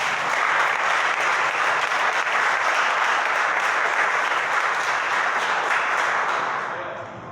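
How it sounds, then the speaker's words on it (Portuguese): A church congregation applauds, dense and sustained, with many hands clapping in a reverberant room before fading out near the end. "Aplauda o Senhor"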